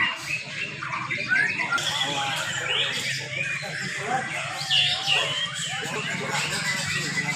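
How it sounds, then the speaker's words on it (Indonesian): Young white-rumped shamas sing at a songbird contest, with busy overlapping whistles and chirps in fast varied phrases, under a crowd of people talking throughout. "Kita tonton kembali latberan Murai Batu Muda teman-teman, seru habis dah"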